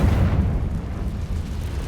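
A Confringo blasting spell detonates in Hogwarts Legacy, a loud, close, rumbling explosion heavy in low end that roars steadily for about two seconds without a pause.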